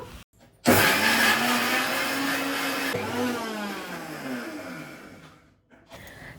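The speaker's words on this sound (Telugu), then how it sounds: "కొన్ని ఉల్లిపాయలు అలానే కొన్ని వెల్లుల్లి రేకలు వేసి ధనియాలు జీలకర్ర పొడి కూడా వేసేసి మిక్సీ పట్టేసుకుంటున్నాను" An electric mixer grinder whirs loudly while grinding onions, garlic, coriander seeds and cumin powder, its pitch rising and then settling into a steady roar for about five seconds before it cuts off.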